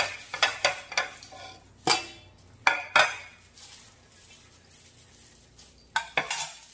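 Chives being tossed with raw oysters in a bowl for a Korean salad, with scattered clinks and taps of utensils against dishware, sharp isolated knocks amid soft rustling, close and moderately loud.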